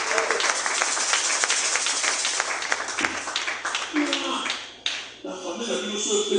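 A church congregation applauding, dense sustained clapping that fills the room, briefly dipping and then resuming, with a voice heard near the end.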